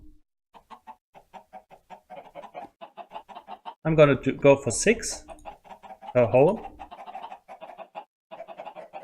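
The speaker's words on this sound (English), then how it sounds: "And then summon in some chickens." Chickens in Minecraft clucking in a rapid, steady stream of short clucks, with louder bursts of bird calls standing out midway; someone talks briefly over them.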